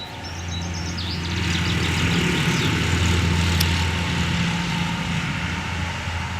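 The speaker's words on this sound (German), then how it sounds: "So, jetzt kommt wieder ein Trecker." A tractor passes by in the countryside, a steady, loud engine drone that swells and holds with no voices over it.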